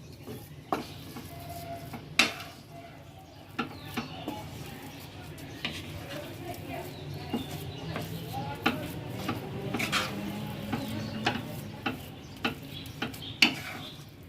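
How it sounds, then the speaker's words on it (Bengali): Milk powder, sugar and grated paneer are stirred in a pan over a low flame, with a spoon scraping and tapping in a soft irregular rhythm under a faint background hum and quiet talking. "আস্তে আস্তে দেখুন মিল্ক পাউডার, চিনি, আমার গ্রেট করা পনির সবই বেশ মিক্সড হয়ে যাচ্ছে"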